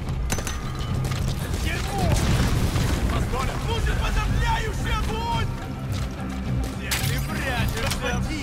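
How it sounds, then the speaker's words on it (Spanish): A grenade goes off in Metal Gear Solid 5: The Phantom Pain, a heavy booming rumble that fills several seconds amid dense game noise, with voices talking over it. "granada"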